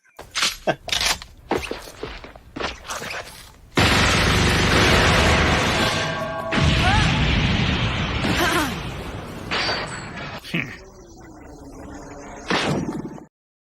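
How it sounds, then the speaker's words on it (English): Burst after burst of gunfire sound effects played during a livestream donation alert, loud and rapid with booming impacts and clattering pops layered over one another, sustained for several seconds before tapering into scattered shots. "Everybody prepare yourself for some guns."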